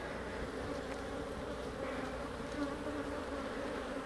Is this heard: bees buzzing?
yes